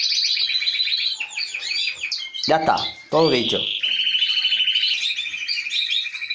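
Small bird in an aviary chirping almost continuously in rapid high twitters while being ringed, close by, with someone talking briefly over the calls midway.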